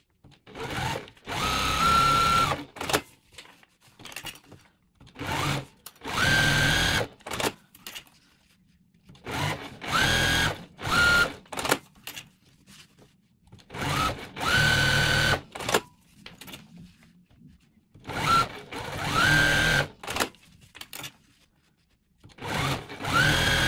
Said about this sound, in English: I'm going to take it to the sewing machine and do a little bit of quilting